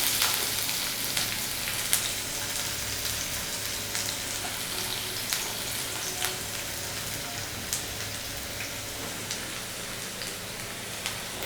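Onions frying in a pan with star anise, black cardamom and cinnamon for a mutton liver masala, giving a loud continuous crackling sizzle that stays steady throughout with faint pops.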